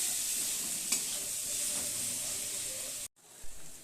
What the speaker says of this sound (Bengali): লঙ্কা গুঁড়ো অল্প করে দিলাম, একটু ধনে গুঁড়ো দিয়ে দিলাম, দিয়ে এবার একটু আবার নেড়ে ছেড়ে নেব